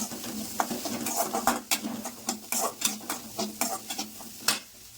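Chopped coconut sautéing in a pan, a steady close-up stirring scrape with soft sizzling and repeated spoon strokes at a quick, uneven rhythm.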